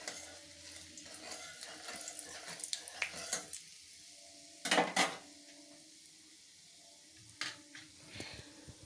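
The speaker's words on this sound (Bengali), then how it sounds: "যখন দারচিনি এবং গোলমরিচগুলো ভালো করে গরম হয়ে যাবে, একটা সুন্দর গন্ধ বেরোবে, তখন আমি এর মধ্যে দিয়ে দিচ্ছি রসুন।" Garlic goes into a pan of hot oil with cinnamon and whole peppercorns, giving a faint sizzle broken by clinks and scrapes of a spoon against the pan, several sharp knocks standing out, no voices.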